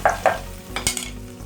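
Garlic goes into a hot pan of sautéed ingredients for Tamil paruppu urundai kuzhambu: a couple of quick spoon scrapes and clinks, then a short burst of sizzling frying, close up.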